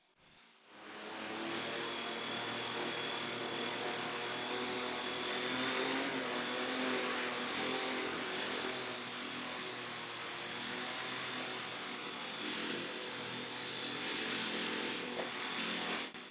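A model V-22 Osprey tiltrotor aircraft flies with a steady high-pitched electric whine and a dense rotor buzz. The sound holds loud and close for the whole stretch, with no voices.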